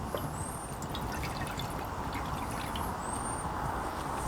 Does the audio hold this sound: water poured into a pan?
yes